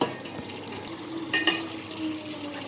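Homemade French fries frying in hot oil, a steady soft sizzle with a brief scraping stir partway through, fairly close and moderate in level.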